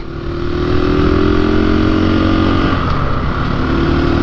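KTM motorcycle being ridden, its engine a loud, steady close drone with a slight rise and dip in pitch as it holds speed, no voices over it.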